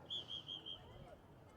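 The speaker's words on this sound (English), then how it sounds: "we get a whistle from the official" At a varsity boys high school soccer match, a referee's whistle gives four quick, shrill blasts, fairly faint over soft crowd and field noise.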